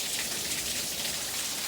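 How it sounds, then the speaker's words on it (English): Heavy rain pours down in San Diego, a dense, continuous hiss of drops hitting surfaces, loud and close with no pauses or voices. "It's raining so hard."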